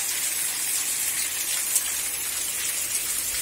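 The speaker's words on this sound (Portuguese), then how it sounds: "a chuva parou, deu uma trégua" Steady rain falls in Itapura, São Paulo, with an even, dense hiss that holds for a few seconds and no voices.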